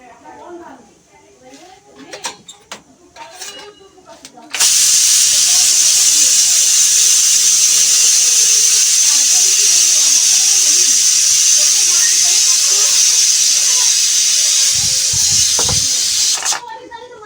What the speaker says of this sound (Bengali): আমি আর একটু হাওয়াটা বের করে দেবো প্রেশার কুকারের।